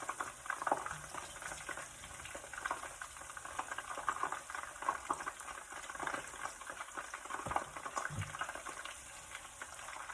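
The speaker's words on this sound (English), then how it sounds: "I'm just gonna gently toast my my cashews here. I'm gonna leave it in the basket so I don't have to fish it out through the oil." Cashews gently toasting in hot frying oil inside a fryer basket, a steady close sizzle and bubbling crackle running throughout without any talk.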